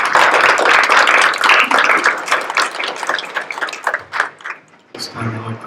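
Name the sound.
audience applause at flag retirement ceremony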